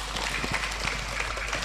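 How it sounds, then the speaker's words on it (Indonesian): A crowd at a wedding reception sermon claps in a faint, uneven patter over a low steady hum, the individual hand claps soft and somewhat distant. "Tepuk tangan dong."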